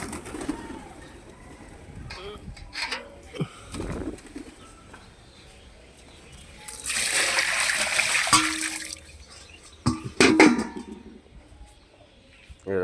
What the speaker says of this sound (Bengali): আমি জলটা ফেলে দেবো